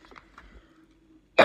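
A single sharp dry cough bursts out at the very end, close and loud, following a stretch of quiet, faint breathy sounds.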